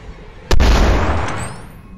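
A single loud gunshot from a player character's gun in the horror video game The Beast Inside, a sharp crack followed by a long booming low decay that fades over the next second and a half.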